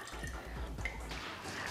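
Homemade rosemary syrup poured into a jar, with soft irregular drips and liquid splashes close by, quiet and brief with no talking.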